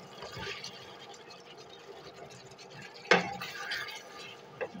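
A spoon stirs duck meat and young jackfruit together in a pan. It makes soft scraping and bubbling, with a couple of sharper utensil knocks against the pan near the middle and end.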